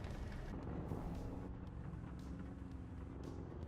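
An enemy tank engine in War Thunder rumbles low and steady throughout, a dense droning growl with faint higher clanks over it.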